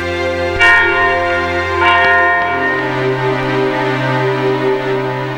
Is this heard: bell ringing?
yes